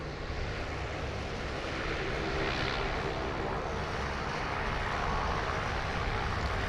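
A Rex Airlines Saab 340 turboprop in former US Airways livery passes at Sydney Airport, a steady broadband engine roar that swells slightly midway and holds loud throughout, with no talk.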